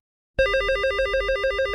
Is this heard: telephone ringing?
yes